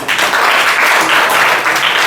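Audience applause at a school celebration programme for 14 April in an English-speaking class: loud, dense, continuous clapping from a group, steady for the whole stretch with no talk over it.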